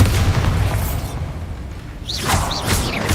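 Bombarda spell in Hogwarts Legacy going off with a heavy, close booming explosion and rumble, followed by a whooshing magical swirl and fading crackle.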